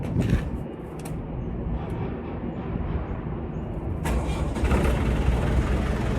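A telehandler with a freshly repaired exhaust is heard nearby: a low idle-like rumble, then the engine catches about two-thirds through and runs on louder and steadily.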